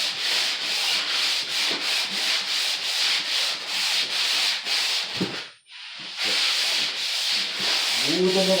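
Drywall joint compound being hand sanded with 220-grit sandpaper, close rhythmic rasping strokes in a steady back-and-forth pattern, with a brief pause partway through before the scraping resumes.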